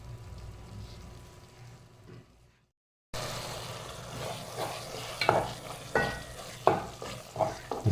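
Masala sizzles in a pan for chicken and cauliflower curry. A quiet hiss cuts briefly to silence, then louder frying returns with rhythmic scraping stirs and clinks of a spoon against the pan, close by with no talk.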